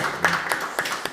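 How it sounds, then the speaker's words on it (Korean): A church congregation applauds during a Sunday service, a brief run of soft, rhythmic claps from a small group in a room. "우리 박수하면서 한번 축하할까요?"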